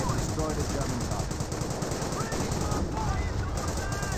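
Gunfire in a Company of Heroes battle between Panzer Elite and British forces, rapid machine-gun bursts and scattered shots under a dense wash of battle noise, with a voice talking over it.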